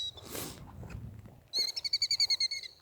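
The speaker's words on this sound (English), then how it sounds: "that's an eagle." A wild eagle on a forest trail gives a rapid series of about ten high, clipped piping notes, fairly faint and distant, after a brief soft rustle.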